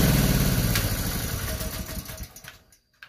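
A petrol generator set running a steady mid-pitched engine drone before it is shut off, its sound fading and cutting out near the end, followed by a few faint clicks.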